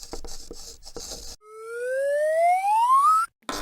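A novelty quiz-show buzzer on a British TV panel comedy rings out as a single loud, rising electronic tone sweeping upward for about two seconds, right after a burst of studio crowd noise, then cuts off abruptly.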